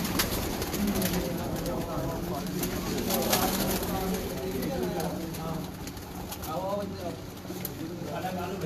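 Pure Neel Dumba pigeons cooing in soft repeated bursts, fairly near, against steady background noise with people talking over them.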